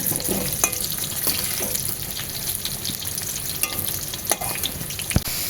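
Steady sizzling of potatoes frying in a pan, with occasional crackles and pops over a constant hiss.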